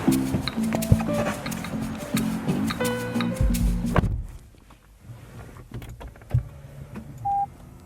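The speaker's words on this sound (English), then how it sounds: "We have the electric steering column, which is really cool." The electric steering column of a 2024 Toyota Camry whirs through its adjustment in a steady motorized hum, close inside the cabin, followed by quieter clicks and a brief tone.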